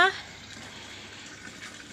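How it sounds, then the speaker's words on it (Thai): Water flows with a steady, moderate rushing hiss in a vegetable garden. A brief voice sounds at the very start, then the water runs on evenly alone. "เสียงน้ำไหล เสียงน้ำไหล ให้หนวกหูหน่อยนะคะ"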